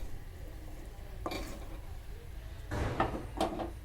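Blended onion and tomato paste is mixed into a pot of garlic tamarind curry, a few soft scraping and clinking strokes of a utensil against the pot over a quiet background.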